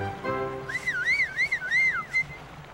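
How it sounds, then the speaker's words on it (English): A cartoon character gives a signal whistle: one clear, fairly loud whistled phrase that rises and falls in a wavy, sing-song line for about two seconds, with no talking over it. "When the time is right, I will whistle like this."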